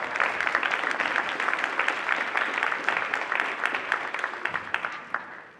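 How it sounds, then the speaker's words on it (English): A large audience at a Black History Month celebration claps in dense, sustained applause that stays loud and even before easing slightly near the end, with no voices over it. "let's give her a round of applause"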